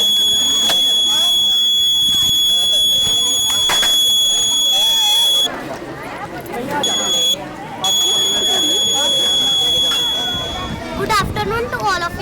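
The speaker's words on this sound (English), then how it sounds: "Buzzer is used to sound." At a school tinkering lab and art exhibition, an Arduino project's buzzer sounds a loud, shrill continuous tone that cuts out briefly twice, amid steady crowd babble and nearby voices.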